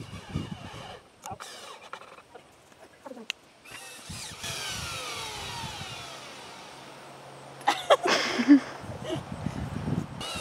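A power drill drives 3.5-inch screws into wooden Adirondack chair parts, whirring in several short bursts and one longer steady run with pauses between, fairly close, with brief talk and a strained creak from the wood.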